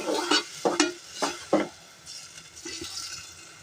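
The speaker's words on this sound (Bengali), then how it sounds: "টমেটোটা ভালো করে নেড়ে চেড়ে কষিয়ে নেব।" Chopped tomatoes with spices are stir-fried for a pabda fish curry, with several sharp spoon scrapes and stirs against the pan over a soft, continuous sizzle.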